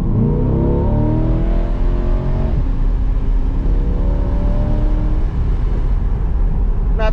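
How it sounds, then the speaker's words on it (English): A Chevrolet C8 Corvette's exhaust rumbles steadily and loudly as the car accelerates under moderate throttle, rising engine tones sweeping upward, heard from inside the car. "So I'll turn it on, you guys can hear the exhaust a little bit."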